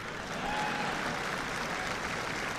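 Audience applause fills the hall, a dense, steady clapping from a crowd that holds at full loudness throughout with no voices over it.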